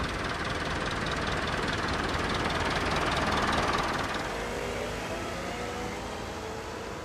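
A late-1930s Fordson Standard tractor fitted with a rotary cultivator runs at a tractor show, a steady, rough engine drone with a knocking mechanical undertone, fairly close and continuous without talk.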